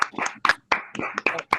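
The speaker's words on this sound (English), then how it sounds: "give a big round of applause for the organizers" A few people clap in scattered, uneven bursts for an event's organizers, sounding close and sparse rather than like a full crowd, lasting under two seconds.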